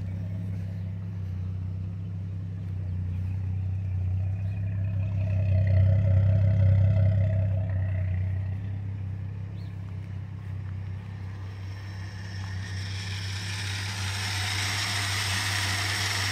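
A 1974 Dodge Dart V8 idles after five years sitting, a low, steady engine rumble with a faint rattle that swells slightly midway, followed by a rising hiss of air toward the end.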